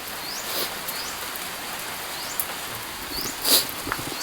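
Light rain falls steadily during a typhoon, a soft continuous patter with a few brief chirps and small knocks over the top, no speech.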